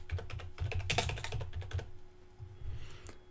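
Rapid keyboard typing on a computer while editing button wording on a WordPress site, a quick run of close, crisp key clicks over a faint steady hum, with no talking.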